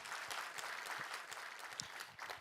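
Steady applause from a large church congregation indoors during a New Year service, dense clapping sustained throughout at moderate distance.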